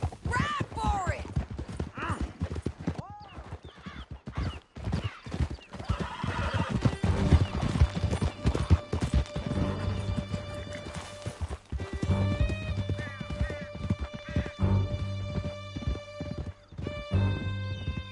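Several horses gallop with steady clip-clop hoofbeats and sharp whinnies and neighs during a chase in Red Dead Redemption 2, loud and close, mixed with shouted dialogue and a swelling music score.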